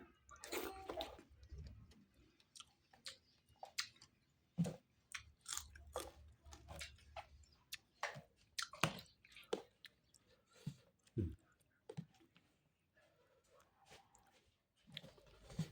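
People chew and bite while eating fresh fish with rice, making soft, wet, irregular munching and squishing sounds close by, with scattered clicks and small drips and no talking.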